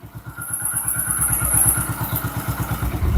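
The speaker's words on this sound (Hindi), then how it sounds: "सिंगल किक में जो है बाइक फाइनली स्टार्ट हो गई है" A Hero Glamour BS4 motorcycle engine idling close by after a single kick start, with a steady, thumping putter, running alone without voices.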